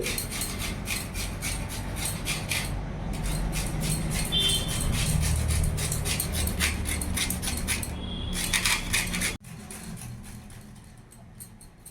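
A carrot being grated on a grater: a steady, dense rasping scrape with fast repeated strokes, close and loud, pausing briefly before a lighter stretch of scraping at the end.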